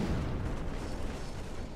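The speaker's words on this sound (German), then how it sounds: "Du hörst es bis in den Traitor-Raum, die Explosion." An explosion goes off in the video game Trouble in Terrorist Town: a dense, rumbling roar of broadband noise that holds steady through the short moment.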